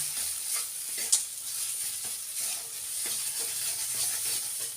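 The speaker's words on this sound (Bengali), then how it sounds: "দু চামচ মতো সর্ষে বাটা দিলাম খুব ভালো করে একটু নেড়ে নেবো" Oil sizzles steadily in a pan while a utensil scrapes and stirs mustard paste in a loose repeating rhythm, close and fairly loud, with no voices.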